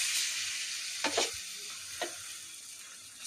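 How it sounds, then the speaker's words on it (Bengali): Patishapta pancakes cooking in a pan give a soft, steady, quiet sizzle, broken by two brief sharp scraping or tapping sounds near the middle. "আর এই দেখো পাটিসাপটা ভাজছি।"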